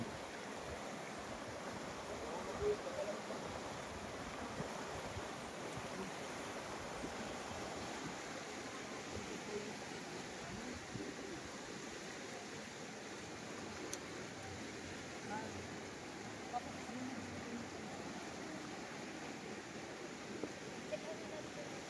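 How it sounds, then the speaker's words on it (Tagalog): A strong stream rushes steadily past, a broad, unbroken wash of flowing water heard from nearby at a moderate level, with no talk over it. "Yan, lakas ng flow ng tubig."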